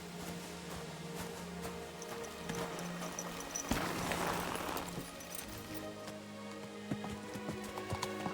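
Horse hooves in Kingdom Come: Deliverance II: faint, steady hoofbeats clip-clop in a running rhythm over a low ambient hum, with a louder whooshing swell midway.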